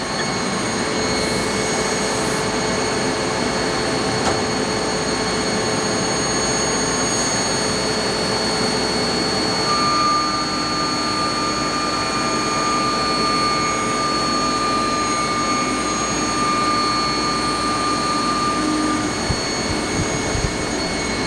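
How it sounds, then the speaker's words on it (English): A CNC mill roughs stainless steel, slotting with a 1/8 inch ball end mill. It makes a loud, steady whine with sustained tones that runs unbroken throughout. "that was one of those roughing operations, using an 1/8 inch ball mill slotting slotting stainless steel"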